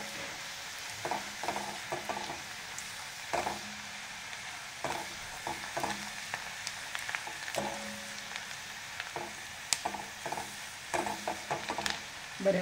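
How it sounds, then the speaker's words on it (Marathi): Onion sautéing in a pan of oil for an ambadi leaf bhaji: steady close sizzling with scattered stirring scrapes and clinks over about twelve seconds, with no talking. "एक मिनिटभर आपण कांदा हा परतून घेऊया छान"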